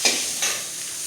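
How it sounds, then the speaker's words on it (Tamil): Mutton frying in a pan with dried coriander seeds, dried red chillies and cumin, stirred with a brief scrape or two over a steady close sizzle, with no voices. "உங்கள் மாமா மட்டனுக்கு வறுத்துட்டு இருக்கிறாரு பாரு."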